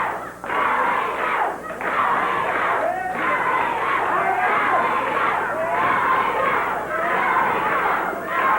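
Memphis wrestling crowd chanting for Eddie, a dense, rhythmic roar of many voices repeating in waves, with loud cheering and shouting filling the arena.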